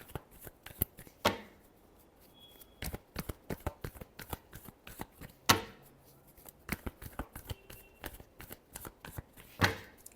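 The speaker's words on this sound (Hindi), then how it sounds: "Last shuffle." Tarot cards being shuffled for a reading, close, crisp card flicks and riffles in uneven bursts with a few louder slaps, alone without talking.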